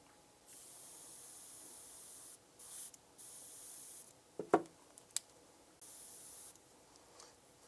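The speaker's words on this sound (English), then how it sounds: "And we're going to just set the governor on the back of the airbrush here that'll keep us from pulling the brush back too far." An airbrush sprays paint onto a tabletop miniature in several short bursts of soft, close hiss separated by quiet pauses, with a few small clicks and knocks in between.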